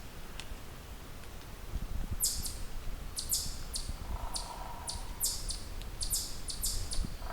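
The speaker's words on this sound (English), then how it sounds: "There's our soft pine warbler song." Faint bird chirps and a pine warbler's soft, short trill in a quiet forest, with high thin calls repeating in the distance.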